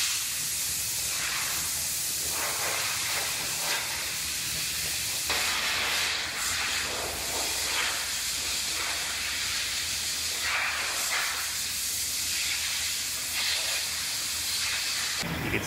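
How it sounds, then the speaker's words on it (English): Cavity wax sprays from a 360-degree nozzle inside a Honda rear body panel, a loud continuous hiss that fills the whole stretch with slight swells in intensity. "So this is cavity wax, and it sprays in a 360-degree pattern"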